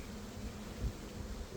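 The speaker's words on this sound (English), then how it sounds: "Like I said, it's packed with bees." Honeybees hum in a steady, low drone from a hive packed with bees during an opened-hive inspection, faint and continuous with no voices.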